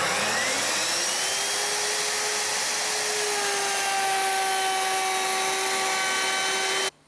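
A Bosch POF 1400 router cuts a 6.4 mm deep groove, a loud steady high-pitched motor whine that rises slightly as it settles under load, then stops abruptly at the end.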